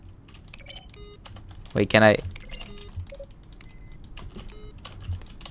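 Keystroke-and-synth-tone button sounds from The Stanley Parable video game click softly in the background while someone speaks briefly near the middle.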